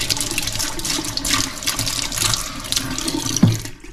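A product is washed under a running kitchen tap, with a steady close rush of water and a brief knock near the end.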